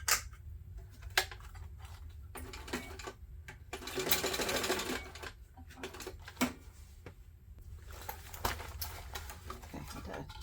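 Sewing machine stitching a backpack seam at a set seam allowance, short bursts of fast mechanical whirring broken by pauses and small clicks as the fabric is repositioned, close and fairly quiet.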